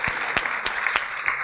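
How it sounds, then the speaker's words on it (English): A conference audience at emergency-care Ignite talks claps for the speakers, a short burst of applause with a handful of distinct, evenly spaced louder claps standing out over the general patter. "Can we have a big round of applause for all the igniters?"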